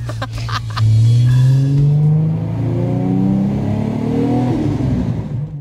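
An 800-horsepower Nissan Skyline GT-R R33 engine revs loudly and close on its first start, its pitch climbing steadily as it accelerates, then easing off toward the end.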